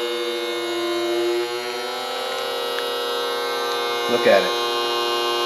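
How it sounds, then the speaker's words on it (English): A vacuum sealer machine, model AP-18, sucks the air out of a bag of ribeye steak and seals it, giving a steady electric hum with layered tones throughout and a brief louder burst near the end, with a person talking over it. "Sucking all the air out, and then it's gonna end in the seal."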